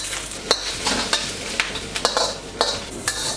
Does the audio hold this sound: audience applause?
no